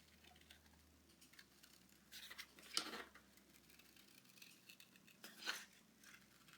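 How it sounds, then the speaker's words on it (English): Scissors fussy cut around the ends of a paper piece for a 12x12 scrapbook page layout, giving two short, faint snipping bursts against a quiet background. "Then I take my scissors,"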